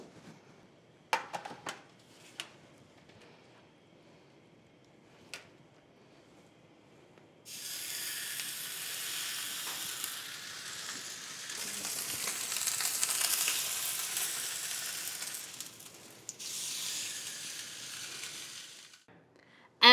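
A USDA Prime three-bone kosher prime rib roast sears in a hot preheated skillet, a loud, steady sizzle that swells after a few soft clicks and holds with no talk.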